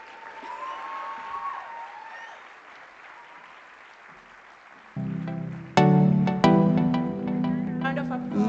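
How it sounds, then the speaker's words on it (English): Conference audience at the Elevate Africa Convening applauding in a steady, moderately distant wash, before loud music with sustained tones comes in over the clapping. "Round of applause."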